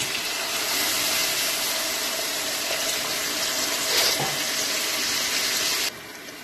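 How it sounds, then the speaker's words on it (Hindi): Half a glass of water pours onto tomatoes frying in a pan for chana pulao, a loud continuous hissing rush and sizzle that runs steadily for several seconds before cutting off. "और साथ ही इसमें आधा गिलास पानी डाल देंगे ताकि टमाटर अच्छे से गल जाए।"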